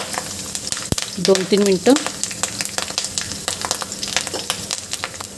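Curry leaves, garlic and chili fry in hot oil for puffed rice chivda with a steady crackling sizzle, and someone speaks briefly over the cooking.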